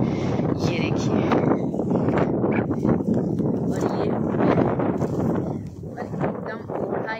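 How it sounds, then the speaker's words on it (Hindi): Strong wind gusts across an open village field, a steady loud rush of microphone buffeting that runs throughout beneath someone talking. "यहाँ इतनी ज्यादा हवा चल रही है ना कि आपको मैं क्या ही बताऊँ"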